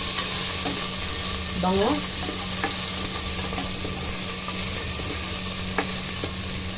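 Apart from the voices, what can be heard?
ginger sizzling in hot oil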